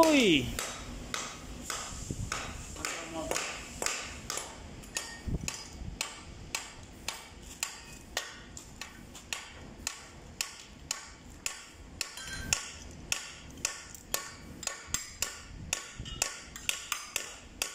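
Repeated sharp hammer blows ring on metal, steady and fairly regular, close by, while fixing brake lining in a brake shoe of a three-axle semi-trailer, with a few faint voices in the background.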